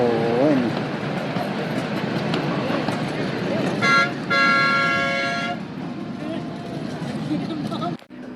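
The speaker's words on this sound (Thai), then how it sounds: "รถไฟจิ๋วขบวนแรกจะออกแล้วพี่น้อง" A mini tourist train on a mountaintop sounds a few bright, tooting horn blasts as it sets off, heard over a steady murmur of crowd and engine noise, with a brief voice near the start.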